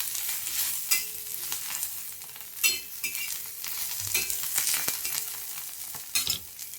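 Green chilies and garlic roasting on a griddle make a soft, continuous sizzle, with occasional scrapes and taps of stirring at a modest, close distance.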